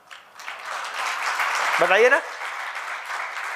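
An audience claps through a spoken talk, building into broad, sustained applause while a voice rises briefly over the clapping.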